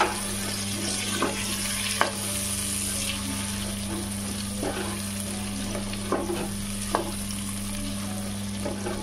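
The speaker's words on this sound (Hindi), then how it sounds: "अब हम इसमें बड़ा टमाटर डालेंगे, छोटे छोटे पीस करके टमाटर को अच्छे से मिलाएंगे।" Chopped tomato stirred into chicken bhuna masala frying in a pan, continuous soft sizzle with scattered spoon scrapes and clinks, close and moderate under a steady hum.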